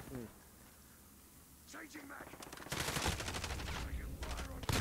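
Suppressed M16 rifle fire in Call of Duty: Modern Warfare (2019), with a monolithic suppressor and Corvus barrel. Rapid muffled bursts of automatic fire come late, loud and close, after quieter game sounds, while someone talks.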